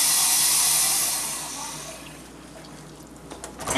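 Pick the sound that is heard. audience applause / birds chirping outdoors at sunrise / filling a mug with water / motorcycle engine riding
filling a mug with water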